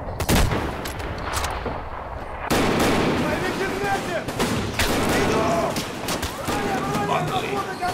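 Gunfire in Escape From Tarkov: loud bursts of rapid shots and sharp cracks, dense and sustained across the clip, with brief quieter gaps between volleys.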